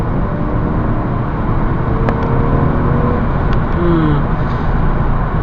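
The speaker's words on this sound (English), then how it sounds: "the engine sounds like it's making more noise than actually doing anything" A 2004 Lexus GS 300 engine heard from inside the car on kick-down acceleration, with a loud, steady cabin roar of engine and road noise that holds evenly without a sharp rise.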